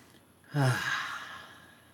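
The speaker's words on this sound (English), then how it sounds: "Inhale and exhale with the sound of ah." A single deep exhale with an audible breathy ah sound during a calm breathing exercise, close and fairly soft, rising quickly and then trailing off.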